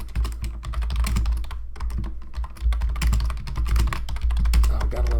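Steady typing on a computer keyboard, with rapid irregular key clicks and taps running continuously, close and clear with no talking.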